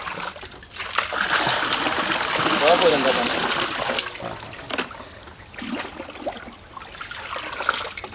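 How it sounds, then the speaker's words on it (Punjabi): Water gushes and splashes from a running tubewell in a rural Punjab village, a steady rushing spray that persists under a voice speaking nearby. "ਕਿ ਕਿੰਜ ਟਿਊਬਵੈਲ ਚਲਾਈਦਾ ਹੈ।"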